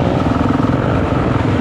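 A motorcycle engine roars continuously while riding, loud and close with a steady droning tone and wind rush, no voices.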